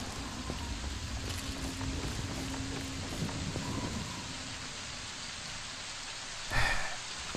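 Steady rain pattering down in Fallout 3, a constant dense hiss with scattered drops, and a brief louder burst near the end.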